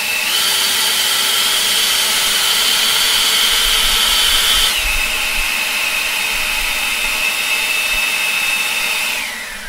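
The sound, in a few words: EGO electric leaf blower running in turbo mode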